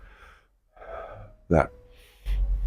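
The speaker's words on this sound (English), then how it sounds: "I'm trying to breathe from my lungs now." Someone demonstrates deep breathing into the lungs: a soft breath, then a sharp, loud inhalation, and a heavier rushing breath at the end, close to the microphone.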